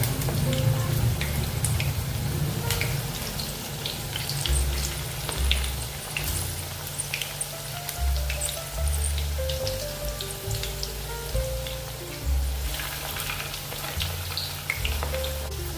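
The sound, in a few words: potato manchurian frying in oil on low gas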